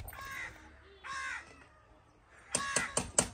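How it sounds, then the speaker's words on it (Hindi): A crow caws outdoors in a village on a foggy winter day, with two separate caws first and then a quick burst of louder, sharper calls close by. "कौवा जो है ना वो बोल रहा है,"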